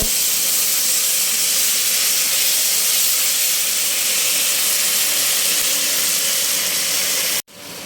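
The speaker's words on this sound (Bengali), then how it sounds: "ভাজা ভাজা করে নেব" A loud, steady sizzling hiss of spices and ginger paste frying in a hot pan continues for several seconds, then cuts off abruptly near the end.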